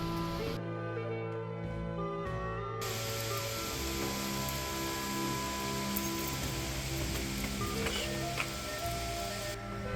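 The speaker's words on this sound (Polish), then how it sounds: "No niestety, leje deszcz, ale się rozpadało." Heavy rain pouring at the Angkor temples in Cambodia during the rainy season, a dense steady hiss of falling water that holds constant throughout, fairly close and loud.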